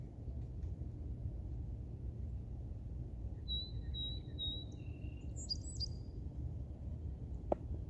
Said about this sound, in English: The birds sound great.